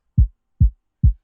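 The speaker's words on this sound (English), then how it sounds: "let's check out the kick." Kick drum from an FL Studio woro ogene beat: three deep, punchy thumps evenly spaced about 0.4 seconds apart, each decaying quickly, heard alone with no talking.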